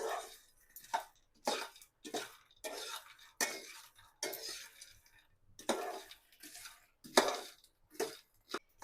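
Roasted makhana being tossed with salt and chili in a pan: intermittent light rattling and scraping bursts in a regular rhythm, close and quiet, with no talk.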